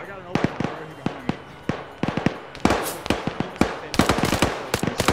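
Rapid gunfire crackles in a video game firefight, with bursts of automatic shots and single cracks, some near and some distant, and a player's voice can be heard talking over it.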